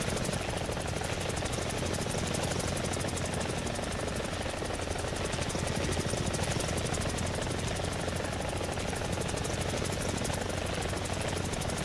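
A helicopter engine and rotor in the video game War Thunder drone steadily throughout, loud and continuous with a thick whirring roar and no talking.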